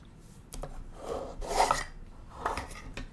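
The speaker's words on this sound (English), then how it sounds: "So I'm going to shuffle the deck." A tarot card deck being shuffled in a few soft rasping bursts of riffled cards, quiet and close, with no talking.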